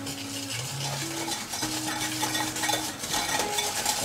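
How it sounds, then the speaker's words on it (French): A whisk or spoon stirring egg with sugar in a bowl for lemon muffins, giving a steady scraping, swishing churn with faint clinks against the bowl and background music. "on va déjà mélanger notre œuf avec notre sucre"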